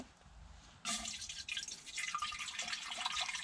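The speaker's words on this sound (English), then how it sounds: "Let's get some water in it." Water pours from a 2 litre bottle into the water heater of a Firebox Frontier stove, a sudden splashing, gurgling stream that starts after a quiet moment and runs on steadily, close and fairly loud.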